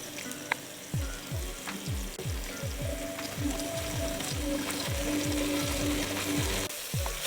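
Beef rigatoni ingredients with tomato paste sizzle and crackle steadily in a hot pan, with repeated scraping stirs cutting through the frying hiss.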